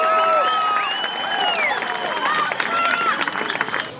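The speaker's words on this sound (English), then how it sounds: "Bring him out with a round of applause" A large audience at the World Championship Hoop Dance Contest at the Heard Museum claps and cheers steadily and loudly throughout, a dense wash of applause with whistles and a voice over the crowd.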